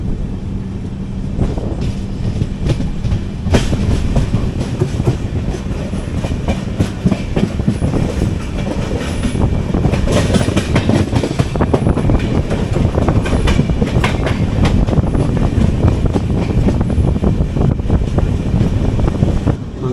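22653 superfast express train rolling on rails into Mangalore Junction, a loud, continuous rumble with rhythmic clickety-clack of wheels over joints and wind buffeting, close and steady throughout.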